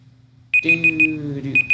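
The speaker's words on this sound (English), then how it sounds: "the timer's going off." A timer alarm goes off with a series of short, bright electronic beeps in quick pairs, sounding over a steady low hum and a sustained tonal drone.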